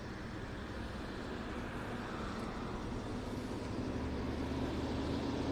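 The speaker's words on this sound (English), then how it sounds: "Hang on, noisy truck." A noisy truck passes on Gulf Shore Drive near Vanderbilt Beach, a broad, steady roar of engine and road noise that swells slightly as it goes by.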